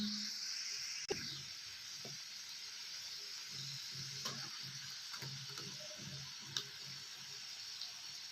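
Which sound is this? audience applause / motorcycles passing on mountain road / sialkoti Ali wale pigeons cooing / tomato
tomato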